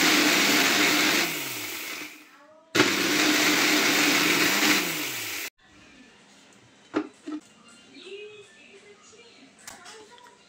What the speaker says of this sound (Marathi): मिक्सरमध्येच वाटून घेणार आहे